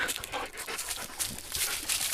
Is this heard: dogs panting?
yes